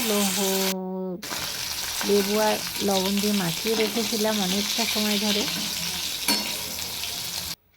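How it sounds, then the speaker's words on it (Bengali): Skate fish marinated in lemon and salt frying in hot oil, a continuous close sizzle and crackle running under a voice talking throughout. "ভালোভাবে উল্টে পাল্টে মাছগুলো ভেজে নিতে হবে।"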